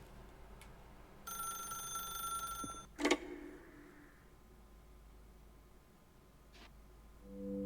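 A telephone rings in The Stanley Parable Ultra Deluxe, one sustained bright electronic ring lasting about two seconds, followed by a sharp clunk as the receiver is picked up, then quiet room tone.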